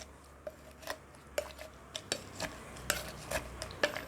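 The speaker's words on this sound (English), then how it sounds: "First I have to muddle it." A muddler crushing watermelon, mint and other mojito ingredients in a glass makes a run of sharp knocks and grinding taps, irregular but frequent, close and fairly quiet, with no talking.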